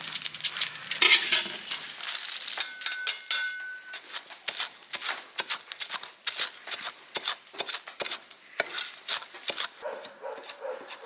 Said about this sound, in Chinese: 炒一个刀口辣椒， 把它炸香。